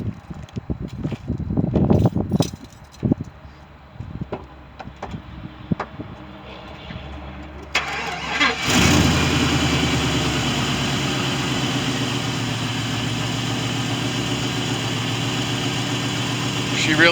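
A street rod engine cranks over with scattered clanks and rumbles, then starts and settles into a steady, smooth idle that holds close and fairly loud to the end.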